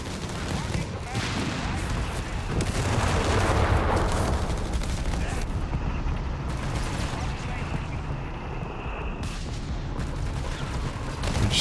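Registered artillery barrage in Company of Heroes 3, a 2v2 match, with dense rolling booms and crackling impacts sustained throughout, loud and continuous under a commentator's voice.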